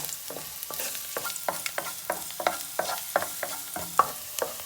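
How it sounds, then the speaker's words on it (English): Garlic frying in hot oil in a pan for a green pasta dish, a continuous close sizzle broken by repeated rhythmic scrapes and taps of a spatula stirring, with no talking. "Then when is the oil hot, add the garlic. And fry slightly brown."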